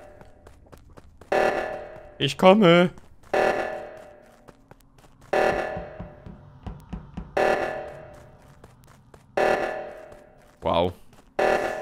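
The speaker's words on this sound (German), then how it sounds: "Ich sollte mal den Alarm deaktivieren" Among Us alarm sounding in loud regular bursts roughly every two seconds, strong harmonic blasts that fade, with someone speaking briefly in between.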